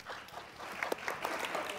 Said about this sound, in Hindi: जोएब, लेके जाओ जोएब के लिए तालियां।